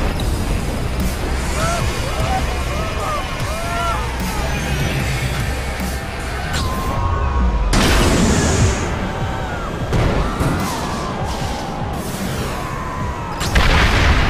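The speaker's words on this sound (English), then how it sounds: "Detecting multiple explosions." Blasts and crashing impacts from explosions in the video game ScreamRide, loud booms and collapsing debris layered over steady game noise, with several distinct bursts and rumbles spread across the stretch.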